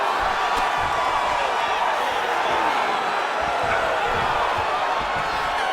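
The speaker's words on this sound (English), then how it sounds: "the crowd is loving it" Arena crowd noise from the EA Sports UFC 5 video game during a Tom Aspinall versus Bruce Lee fight, a dense continuous roar of cheering spectators that stays loud and even throughout without pause.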